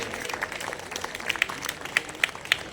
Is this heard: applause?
yes